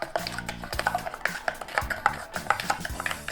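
Dalgona coffee whipped by hand with a whisk in a bowl, rapid rhythmic metallic clinks and scraping strokes close up, steady and brisk with no talking.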